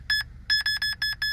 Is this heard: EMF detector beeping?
yes